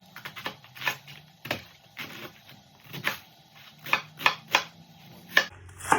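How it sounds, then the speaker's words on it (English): Red cabbage being chopped with a knife on a board: a dozen or so sharp, close knocks in an uneven rhythm, each with a brief crunchy snap, with quiet gaps between. "chop up your red cabbage"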